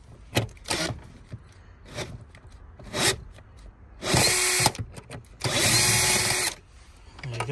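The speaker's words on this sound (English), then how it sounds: "And then what I'll do is use the drill to make it faster." Power drill driving out screws inside an Astra K car interior, several short whirring bursts followed by two longer loud runs, close up, with quiet handling noises between.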